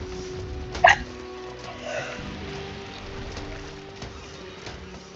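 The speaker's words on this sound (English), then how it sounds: "Gosh darn it, I got the hiccups." A single sharp hiccup rings out near the start, followed by softer intermittent sounds over a steady low hum and faint background noise in a video game scene.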